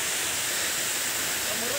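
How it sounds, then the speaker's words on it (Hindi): A small waterfall in a hilly valley gives a steady, continuous broadband rush of falling water, close and fairly even throughout the short stretch with no break. "दिखाते हैं आपको एक स्मॉल सा झरना, पर एक झरना है बढ़िया।"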